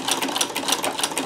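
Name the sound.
sewing machine feeding fabric through Davis scallop plaiter attachment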